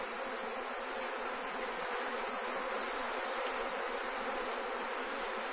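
Honeybees swarm and buzz densely around a queen cage, a continuous close, even drone with no voices over it.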